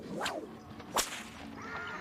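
A drover's stock whip cracks in Australia's Red Centre: a whooshing swing, then one sharp, loud crack near the middle, followed by a fainter swish.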